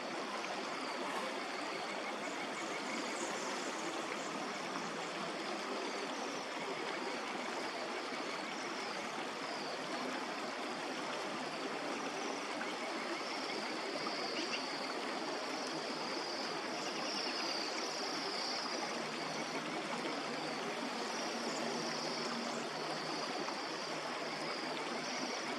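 Creek water in the Whitemud Creek valley of Edmonton, Alberta, flowing in a steady, close rushing babble that stays constant throughout with no voices.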